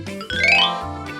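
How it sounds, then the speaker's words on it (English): An office desk phone rings with a loud, bright electronic tone in two short bursts, the second swelling and then fading. "Our office desk phone is ringing."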